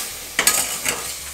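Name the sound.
stir-frying soju-marinated pork in a pot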